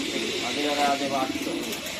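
Pigeons at a pigeon farm coo in low, rolling pulses close by, mixed with people talking nearby.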